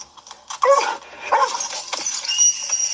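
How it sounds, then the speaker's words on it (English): A dog yelps and whimpers in a few short, high bursts at close range, with irregular pauses between them indoors. "It's a dog."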